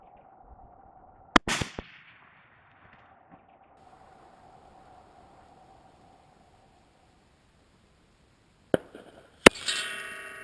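A 375 GIBBS Cheytac Improved rifle fired for a long-range shot, one sharp loud crack with a brief echo, then quiet hum, followed later by more sharp bangs and clatter.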